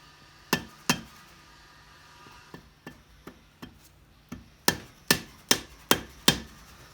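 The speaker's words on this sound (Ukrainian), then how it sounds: "Цікаво, зараз спробуємо його підбити в іншу сторону." Hard knocks on a stuck part during disassembly of a Georg Huhnholz machine: two sharp strikes, a run of lighter taps, then five loud blows in quick succession, with no talk.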